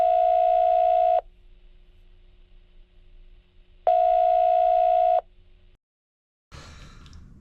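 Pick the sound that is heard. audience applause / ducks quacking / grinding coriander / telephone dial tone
telephone dial tone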